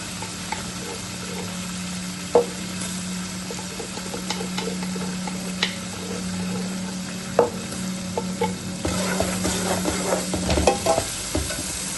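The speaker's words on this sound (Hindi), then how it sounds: "इसमें मैं शामिल करूंगी अदरक लहसुन का पेस्ट और सब्ज मिर्च कुटी हुई।" Ginger-garlic paste with crushed green chilies sizzles and fries in hot oil while a spoon stirs and scrapes the pan, with occasional clinks, close by and continuous.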